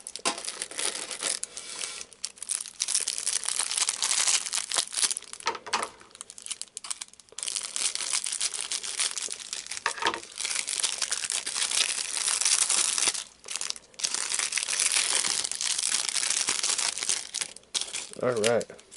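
Crinkling and tearing of foil booster pack wrappers and handling of a Yu-Gi-Oh card tin, a nearly continuous close rustle with brief pauses and a short voice near the end.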